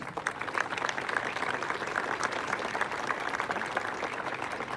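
A crowd applauds Gabriela at an outdoor economics class, a dense, steady wash of clapping filling the whole stretch at moderate level with no voices above it.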